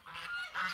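Winter ducks in a swamp giving two or three quick nasal honking calls, faint and somewhat distant, with no talking.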